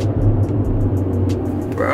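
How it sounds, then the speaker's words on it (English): A loud car engine drones low and steady, close by, with a rumbling idle that stays constant and a faint rising tone near the end. "Ain't no reason his car should be that loud."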